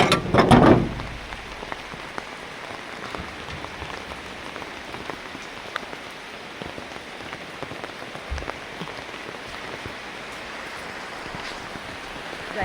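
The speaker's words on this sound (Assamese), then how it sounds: "বৰষুণ দিছে পুৰা" Heavy rain pours steadily in Dibrugarh, a dense, even hiss of drops hitting surfaces outdoors near potted houseplants, continuous and moderately loud with a brief louder patter at the start.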